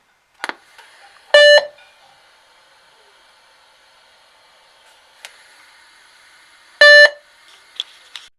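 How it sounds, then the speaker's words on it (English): Test equipment on a Fender Deluxe guitar amp on the repair bench gives two short, loud electronic beeps several seconds apart, with faint clicks and low hum in the quiet between. "Here I have the beep test going."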